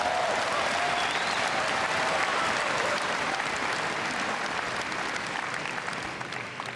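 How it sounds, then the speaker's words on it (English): Audience applause at Star Wars Celebration Europe 2016, a dense burst of clapping from a large crowd that holds steady and then tapers slightly. "give him a round of applause"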